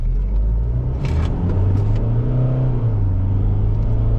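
A 2022 Isuzu Mu-X LS-E 4x2 SUV accelerates hard from a standstill toward 100 km/h, its engine droning loud and steady from inside the cabin with rising tone and a gear change, no talking.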